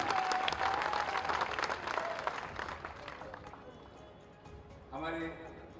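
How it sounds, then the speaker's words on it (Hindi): A large crowd at a public rally held by the Assam chief minister in Talen, Rajgarh, breaks into strong applause that gradually fades away, before a voice is heard briefly near the end. "जोरदार तालियों से उनका स्वागत करें।"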